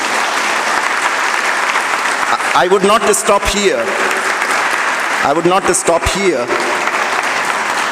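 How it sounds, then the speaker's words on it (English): Loud round of applause at a conference valedictory session, steady dense clapping throughout with a voice speaking over it in two bursts. "these two special ladies on the dais deserve a loud round of applause"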